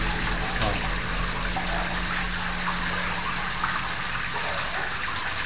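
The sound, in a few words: flowing underground river in a cave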